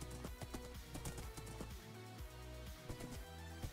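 Repeated hoof clip-clops from a horse in Minecraft follow a brisk, even gait, sounding fairly soft and close with no talking.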